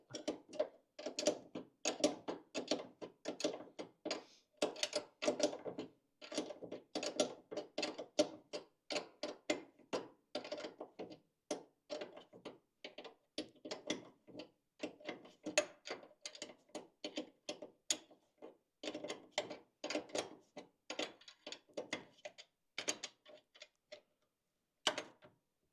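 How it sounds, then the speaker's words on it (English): A ratchet wrench tightens bolts while a hydroboost brake unit is installed on a 1962 Chevrolet C10, giving long runs of close, rapid clicking bursts that pause briefly and resume, with no talk. "You can see that thing was wiggling around in there when I was tightening the bolt."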